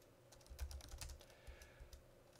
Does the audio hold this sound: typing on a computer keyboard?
yes